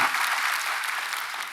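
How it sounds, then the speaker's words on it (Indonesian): Brief burst of church congregation applause during a Sunday service at Gereja Bethany Nginden, dense clapping that tapers slightly. "tepuk tangan buat Tuhan kita"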